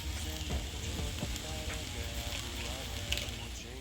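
A spatula stirs fried rice and vegetables in a hot pan, giving steady sizzling with scraping and clinking strokes, while a faint voice sounds in the background.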